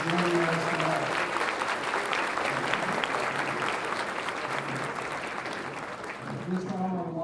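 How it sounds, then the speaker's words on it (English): Banquet audience applauds elected officials and special guests, a dense, steady wash of clapping from the start that thins and fades near the end as a voice comes back in. "Please give our elected officials and special guests a round of applause"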